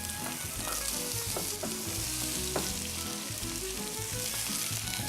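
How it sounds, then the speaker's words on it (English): Olive oil sizzles steadily in a pan as ingredients are gently sautéed, a constant close frying hiss with light scraping touches throughout and no voices. "We're gonna saute that very gently."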